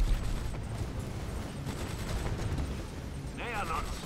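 Rapid cannon and gunfire bursts from battle in the strategy game Command and Conquer 3: Kane's Wrath rattle on continuously amid dense explosive rumble, with a brief warbling effect near the end.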